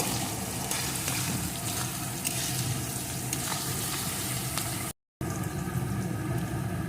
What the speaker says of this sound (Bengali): এখন রসুনটাও পেঁয়াজের সাথে ভালো করে একটু ভেজে নেব